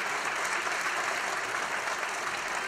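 Sustained audience applause fills a hall at a minorities festival in Romania, a dense, steady wash of many hands clapping without pause throughout, with no voices standing out.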